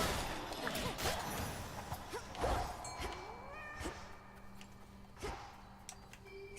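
Toula the cat meows in the video game Hades 2, several drawn-out meows and a caterwaul over faint game ambience and ticking effects, at moderate level.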